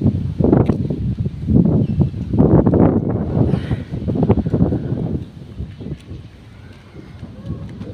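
Strong gusts of wind buffet the microphone in heavy, uneven bursts, easing into a lower blustery rush toward the end.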